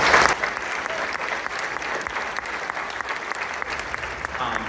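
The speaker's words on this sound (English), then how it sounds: "Round of applause for those vocalist solos" Sustained applause from a high school spring concert audience for the vocal soloists, dense steady clapping filling the hall, loud and continuous.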